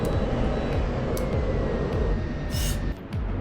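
A simulated F-16 Viper jet roars steadily with broadband engine and airflow noise in the DCS flight simulator, holding a constant loud drone with a brief dip near the end and no voices.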